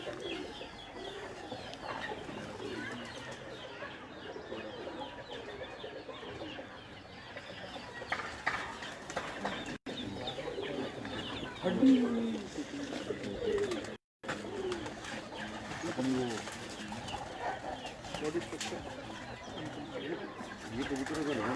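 A busy flock of pigeons cooing in low murmuring calls, with clucking fowl and some talking mixed in the steady din.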